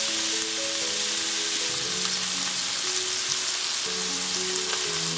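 Lamb stir-fried with cilantro in a hot pan gives a loud, continuous sizzle and crackle, with scraping stirs mixed in and no voices over it.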